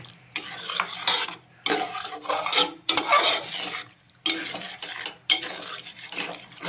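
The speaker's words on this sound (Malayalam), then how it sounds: "ഈ ശർക്കര ഒഴിച്ച് കഴിഞ്ഞേച്ച് ഇതുപോലെ ഇളക്കണം" A spoon stirring jaggery syrup in a pan for ada pradhaman. Bursts of scraping and clinking against the metal are broken by short pauses, close and moderately loud, with no voices.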